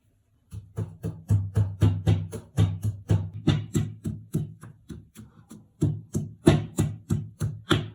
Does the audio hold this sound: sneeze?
no